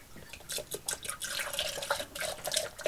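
A diluted acid cleaning product poured from a jug into roughly four litres of water, with faint, uneven splashing and dripping at close range.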